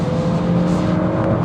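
Mazda MX-5 NC with a small, zingy engine heard from inside while driving, a steady loud engine drone with a constant pitched hum and road roar, no talking.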